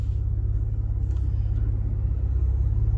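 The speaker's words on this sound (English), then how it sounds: "It's not the throaty V8 sound, but it still has a good racy sound," A Cadillac ATS-V engine hums while driving, heard from inside the car as a steady low rumble with a faint racy edge and road noise, moderate and continuous.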